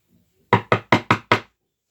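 Five sharp knocks on a door at a nursery school, evenly spaced and fairly loud, with no voices around them.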